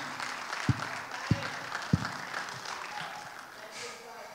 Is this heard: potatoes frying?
no